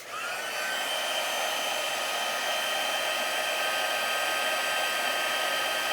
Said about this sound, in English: I'm going to bring in my Stampin' Up! Heat tool, and we'll just create a little bit of noise